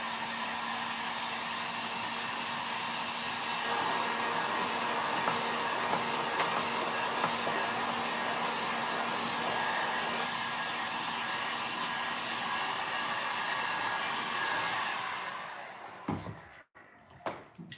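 A heat-drying gun or hair dryer runs in a steady, loud blowing whir for about fifteen seconds while drying a craft piece finished with WoodUbend mouldings and Posh Chalk, then cuts off, followed by a few handling knocks.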